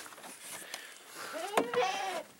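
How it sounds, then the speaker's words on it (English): A goat gives a short bleat near the end, quiet against faint background noise, with low talk around it. "You're just a stubborn old goat."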